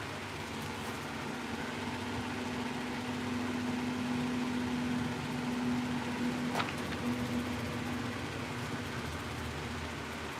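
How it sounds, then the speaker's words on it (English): A tractor passes down a road outside, heard as a steady, fairly distant engine rumble with a faint droning hum, continuous and even in level, with no talking. "Sounds like a tractor just went down the road."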